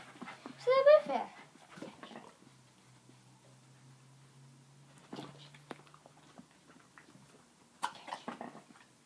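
Pet hounds doing tricks give a brief high whimper near the start, then soft panting and faint snuffling follow, with people talking quietly nearby.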